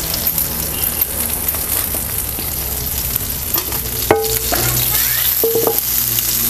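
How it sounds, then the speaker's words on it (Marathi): Half a spoon of cumin seeds in hot oil for tempering, made for a spicy masala fish fry, sizzles loudly and steadily, with sharp spoon clinks against the pan partway through. "ह्याच तेलामध्ये आपल्याला आता फोडणी द्यायचं आहे. त्यासाठी आपण इकडं अर्धा चमचाभर जिरं घालूया."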